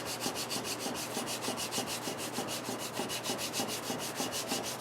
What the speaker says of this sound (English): once I go through one or two more grits of the micro mesh, it will totally eliminate those scratches